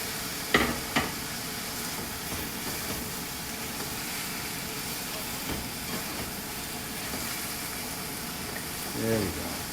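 Scallops tossed into a hot pan of seafood chicken stir fry, giving a steady broad sizzle throughout with a few knocks and clatters of stirring, close and moderately loud, while someone talks.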